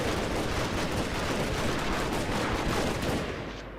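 Machine-gun fire in the battle strategy game Total War: Shogun 2, a dense, steady barrage of rapid shots that continues loud and unbroken and then fades slightly at the end.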